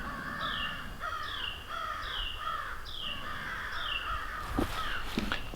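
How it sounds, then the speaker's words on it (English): Several crows caw repeatedly outdoors in a rhythmic series of harsh calls, moderately distant over a soft background hiss, with a couple of sharp clicks near the end. "The crows are going crazy. There's a ton of crows out right now."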